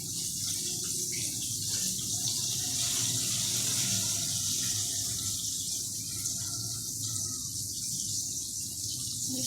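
Tap water runs steadily and loudly into a sink as food is washed for matar pulao and chicken wings, a constant broadband rush with no voices over it.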